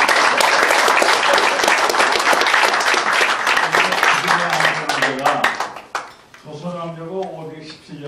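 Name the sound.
audience applause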